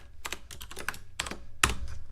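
Short bursts of keystrokes on a computer keyboard, a few quick clusters of close, light clicking with brief pauses, no voices.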